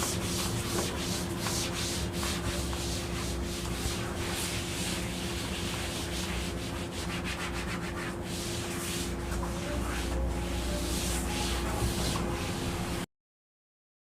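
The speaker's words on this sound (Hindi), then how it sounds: "मिटा दे इसको, रब कर दे, रब कर दे।" Writing is rubbed out on a board with a steady, continuous scrubbing and rubbing sound, close and fairly even, lasting for most of the stretch before it stops abruptly.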